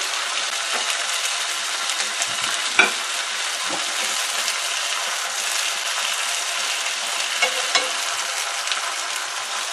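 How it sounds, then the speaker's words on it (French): Turkey steaks sizzle steadily in a hot frying pan, a dense continuous crackle with a few soft knocks and taps from the utensil, close and fairly loud with no talking. "Et je laisse mijoter aussi de l'autre côté."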